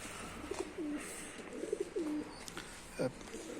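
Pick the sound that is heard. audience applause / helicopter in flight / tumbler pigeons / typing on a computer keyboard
tumbler pigeons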